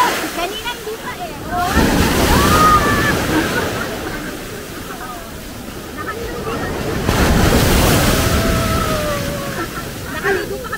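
Strong waves surge in at Alubihod beach in Guimaras during monsoon weather, two big rolling crashes building and receding in loud swells, with people talking over the surf.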